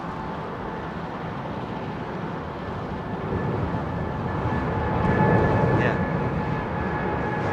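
An Airbus A350-900 Ultra Long Range airliner taking off at London Heathrow gives a steady, dense engine rumble that swells louder midway, with a brief spoken word near the start.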